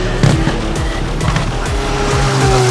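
Race cars scream past at the 2023 Austrian Grand Prix, a loud, close burst of high-revving engines with quick Doppler sweeps as several cars flash by in rapid succession, no talk over them.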